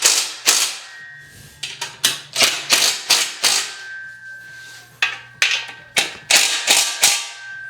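Hand ratchet with a 17mm socket turning bolts while assembling a bicep/tricep curl machine, close-up bursts of rapid clicking in irregular repeated strokes, loud and alone with no talk.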